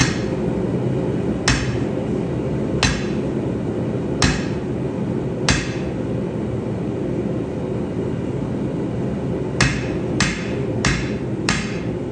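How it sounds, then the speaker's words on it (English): A cant hook is hammered straight on an anvil: about eight sharp, ringing metal blows, spaced irregularly with a long pause midway, over a constant background hiss and no voices. "I'll straighten her out on the anvil and see where we end up."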